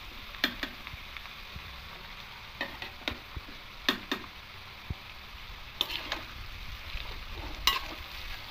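Vegetable fried rice sizzles softly in a pan while a spatula mixes it, giving a steady low hiss punctuated by scattered sharp taps and scrapes against the metal.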